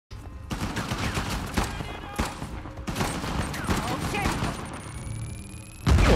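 Rapid bursts of gunfire from a third-person action game, Uncharted: The Lost Legacy, loud and near, with dense volleys through most of the clip, brief gaps between bursts and a heavy blast at the end.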